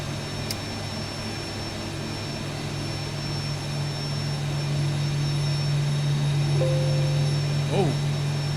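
A Boeing 737-800 jet engine spooling up in a flight simulator, heard as a steady low hum that slowly grows louder, with a thin high whine above and a short tonal rise near the end.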